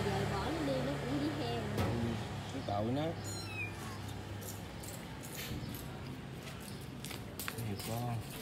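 Small kittens meow repeatedly indoors, several high, thin, rising cries scattered across the stretch, with a person talking alongside them.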